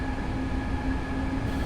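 A BR 425 electric train in Train Simulator runs at speed with a loud, continuous rolling rumble and steady electric whine tones, no talk over it.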